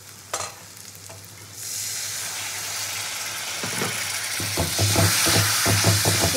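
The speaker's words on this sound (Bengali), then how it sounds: "মশলা থেকে যতক্ষণ তেল না ছাড়ছে ততক্ষণ আমি মশলাটাকে কষাতে থাকবো।" Spice masala sautéing in a pan in a home kitchen while being cooked down for lunch, a steady sizzling hiss rising partway through, with close scraping stirs of a spatula growing more frequent toward the end.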